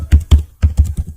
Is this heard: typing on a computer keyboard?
yes